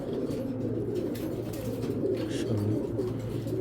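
Racing pigeons cooing nearby in a low, repeated rolling murmur, several birds overlapping steadily with no talk.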